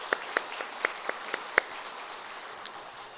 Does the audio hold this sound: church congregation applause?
yes